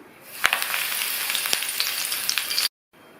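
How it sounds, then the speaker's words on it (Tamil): Curry leaves crackle and spit in hot oil, a bright, dense frying hiss with sharp pops, cutting off abruptly near the end. "அந்த சூடான எண்ணெயிலேயே கறிவேப்பிலை சேர்த்து பொரிச்சுக்கலாம்."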